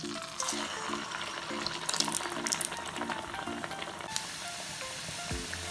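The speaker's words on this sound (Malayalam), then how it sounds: "അങ്ങനെ നമ്മുടെ വെളിച്ചെണ്ണ ചൂടായിട്ടുണ്ട് ഇനി ഇതിലേക്ക് ഇട്ട് കൊടുക്കാം" Potato vadas sizzle and bubble steadily in hot coconut oil, a dense continuous frying hiss with faint rhythmic ticking in the background and no voices.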